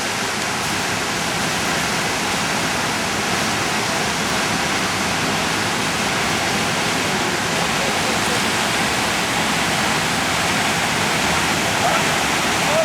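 Water gushes steadily from an underground spring in the Albanian mountains, a dense continuous rushing roar close by that holds constant throughout, with a voice faintly present beneath it.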